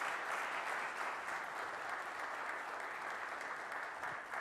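Steady applause from a church congregation at a deacon ordination and honorary deacon ceremony in a Korean Presbyterian church, dense and even clapping filling the room without a break.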